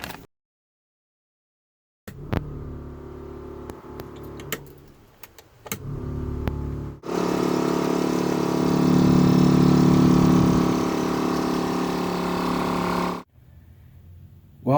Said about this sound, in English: Compressor's coming on every time I flip the switch, so that's a good sign.